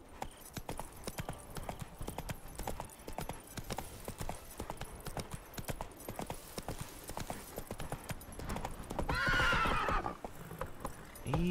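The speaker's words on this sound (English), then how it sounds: "Easy, Roach. Easy" A horse gallops in The Witcher 3, its rhythmic hoofbeats pounding steadily before a loud neigh near the end, with brief speech over the game sounds.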